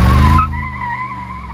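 Tires of a Mercedes G63 AMG on 22-inch wheels with 295/40 tires squeal while the SUV corners sportily, a loud rumble fading into a steady, sustained tonal screech.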